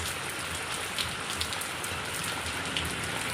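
Heavy rain pouring down in a village, a dense steady hiss of drops hitting surfaces, with a few faint taps standing out; no voices.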